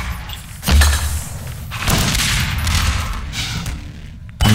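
A grenade blast in Half-Life 2 Deathmatch, a loud thudding boom near the start followed by a rolling burst of debris and crackle, then a second sharp hit at the end, amid other gunfire.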